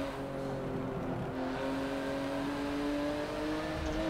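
Porsche race car engine in Forza Motorsport 7, heard on a track with a tunnel: a steady, loud engine drone holding a sustained pitch throughout, with no voices.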